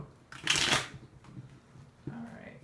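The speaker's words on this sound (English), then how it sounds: "Cards are pre-shuffled, but I'm going to shuffle them until it feels right." Tarot cards are shuffled by hand in a brief crisp riffling burst, followed by softer handling and a faint rustle or two, recorded close in a quiet room.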